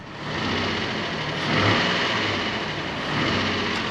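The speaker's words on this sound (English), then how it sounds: "We have a 2005 Nissan Xterra. We've got it running right now." A 2005 Nissan Xterra with its service engine soon light on and blue smoke runs steadily, a loud broadband engine roar that swells slightly mid-way, close and without talk.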